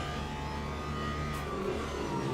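A Porsche GT3 race car in a simulated GT3 race at Spa, Belgium, holds full throttle, its engine a steady, continuous drone at moderate level with no talk over it.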